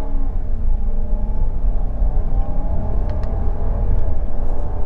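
A 2021 Jeep Grand Cherokee L with a 5.7L V8 accelerates hard, its engine a loud, steady low drone with rising harmonic tones heard from inside the cabin and no talking.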